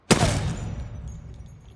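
A single loud gunshot from a weapon in the video game Apex Legends, a sharp close crack followed by a rumbling echo that slowly fades.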